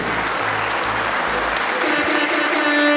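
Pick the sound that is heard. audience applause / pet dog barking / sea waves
audience applause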